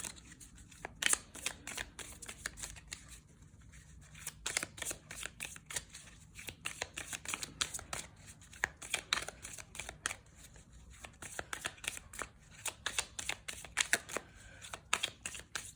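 Tarot cards are shuffled again and again at close range, a quiet, rapid riffling and slapping that continues steadily with short pauses between passes.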